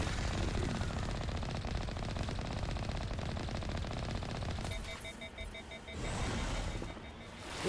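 Automatic gun fire in the game Mass Effect rattles in a loud continuous burst, then cuts off into quieter beeping interface tones before a brief resurgence near the end.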